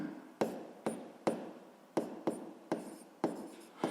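A pen or chalk taps and scrapes out a physics formula in short strokes, eight sharp marks in an uneven rhythm, close and fairly loud against a quiet background, with no speech.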